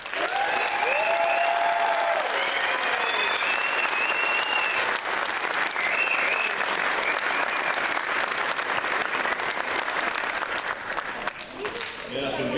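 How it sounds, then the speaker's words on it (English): An audience claps for fourth-grade girls from West Elementary after their final performance, a long, loud, sustained round of applause with whoops and cheering voices rising over it and some speech mixed in near the end. "Let's give a little special round of applause to our fourth graders"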